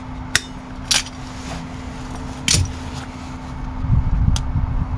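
Mole grips and a welding earth clamp unclipped from the bodywork of a Rover P6 car: a few sharp metallic clicks and clanks spaced apart over a steady background hum, with rustling handling noise toward the end.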